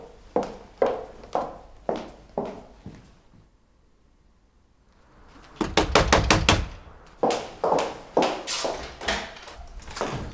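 Repeated knocks at a door come in two rhythmic bursts, separated by a quiet pause with a rising shuffle and the door being worked open, no speech, in an indoor drama scene.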